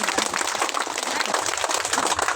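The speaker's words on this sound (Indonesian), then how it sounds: "Tepuk tangan dulu buat yang kasih" Crowd applause at a school opening ceremony for a language-month event: dense, steady clapping from many hands that fills the short stretch at an even level.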